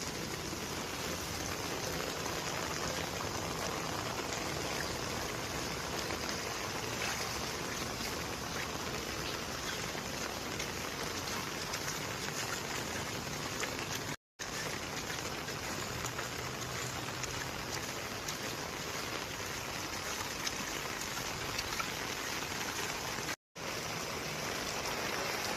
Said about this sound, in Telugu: ఇది వాన నీళ్ళు మిద్ది మీద నుంచి వచ్చేటివి.